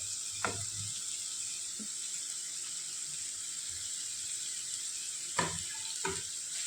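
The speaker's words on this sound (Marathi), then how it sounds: "आता आपण कापून घेतलेल्या ज्या भाज्या आहेत त्या परतून घेते." Chopped capsicum, cabbage and carrot sizzle steadily in a few spoonfuls of hot oil in a pan, a continuous close frying hiss broken by a few sharp scrapes and clatters of stirring at the start and near the end, with no talking.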